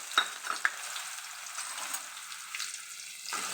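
Onion hits a hot tempering of mustard seeds, cumin and asafoetida and fries with a gentle steady sizzle, a few sharp pops and utensil taps at the start.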